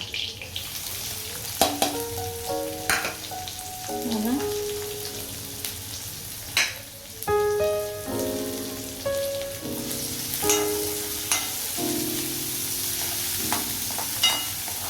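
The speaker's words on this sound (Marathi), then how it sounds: "आणि लगेच टाकते आता मी कांदा" Onion frying in a pan for paneer bhurji gives a steady sizzle under repeated stirring and clanking of a utensil against the pan, with scattered metallic rings.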